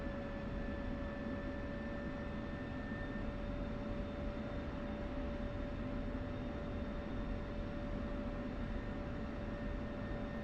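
An F-16C Viper jet taxiing in the game DCS, a steady, moderately loud engine roar with a constant high whine, unbroken throughout.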